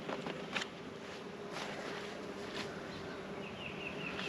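A colony of honeybees hums steadily around a hive, a soft continuous buzz with occasional closer individual bees passing by, with no voices present.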